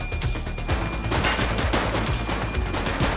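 Rapid gunfire from an enemy shooter rattles through a police action game, a steady loud crackle of shots packed closely together with no pauses and no talk.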